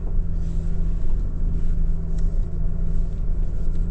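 A 2025 Lexus LX 500d Overtrail in full-time four-wheel drive climbs over dirt mounds off-road, its diesel engine a steady, close, loud rumble with road and chassis noise and no voices.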